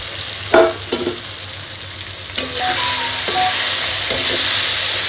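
Fried potatoes and dried pomfret fish sizzle steadily in a pan over low gas, with a few sharp clinks of a stirring spoon early on, then a continuous loud frying hiss.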